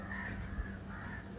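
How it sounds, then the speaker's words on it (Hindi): Crows caw at an island resort, their calls rising and falling over a steady outdoor ambience, moderately loud and continuous with no talking. "यहाँ पे आपको बर्ड्स की आवाज़ इतनी क्लियर सुनाई दे रही थी।"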